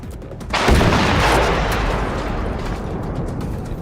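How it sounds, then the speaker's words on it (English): A rocket blast in the multiplayer shooter Generation Zero erupts as one loud, sudden boom, then leaves a long rumbling roar that slowly fades, with no talking over it. "Explosion noise."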